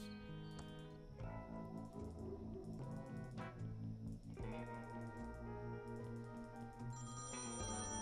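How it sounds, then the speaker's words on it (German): An electronic telephone ring in the game Thimbleweed Park repeats in short warbling bursts over layered synthetic music, steady and moderately loud. "Wieso klingelt das Telefon?"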